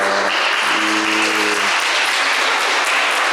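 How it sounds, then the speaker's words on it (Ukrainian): Spectators at a women's handball match clap for a goalkeeper, a steady dense burst of applause from the opposing team that carries on without pause, with a low tonal hum in the first moments. "бачимо суперниці аплодують Тетяні"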